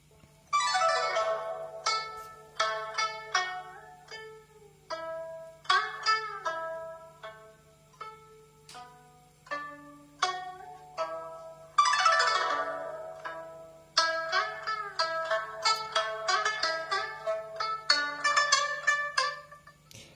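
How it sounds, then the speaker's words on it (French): A Xiaomi Redmi Note 4 smartphone's loudspeaker plays a bright, chiming melody at high volume, with repeated phrases of plucky tones over a faint steady hum, and no voices. "On va pousser le volume sonore pour voir un petit peu la qualité de notre haut-parleur."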